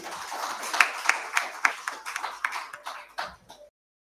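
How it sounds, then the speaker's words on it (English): Scattered applause from the audience at an agribusiness development center's strategic plan launch, a run of sharp, uneven claps close by that thins out and stops abruptly near the end. "A warm applause for this amazing team"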